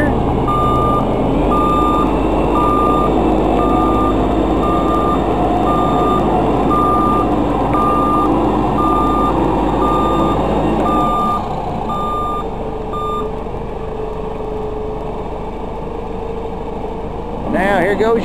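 A 2007 JLG G9-43A telehandler idles and steers its front wheels while a steady reversing alarm beeps at regular intervals. The beeping and deeper engine sound stop partway through, leaving a quieter hum before a brief noise at the end.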